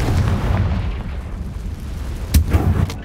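A Confringo blasting spell in Hogwarts Legacy sets off a low, rumbling explosion, with a deep booming roll at the start and a sharp crack and thump near the end.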